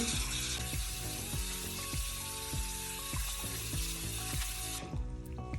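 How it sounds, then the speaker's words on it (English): Lukewarm water runs steadily into a sink as a wig is rinsed, a continuous hiss beneath rhythmic background music, cutting off abruptly near the end. "I'm going to rinse it out with that lukewarm water again."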